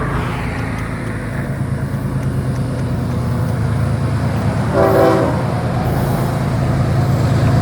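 A heavy Florida East Coast Railway freight train hauling auto racks rolls by with a continuous low rumble and grinding wheels, and a horn sounds briefly midway through.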